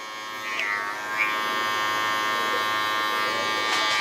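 Electric hair clippers buzz steadily while fading a low taper haircut, a constant close hum with brief higher whines as the blade moves through hair.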